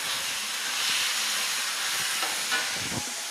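Vegetables being stir-fried quickly in a pan with tomato sauce, a loud continuous hissing sizzle with a few soft scraping stirs near the end, close by.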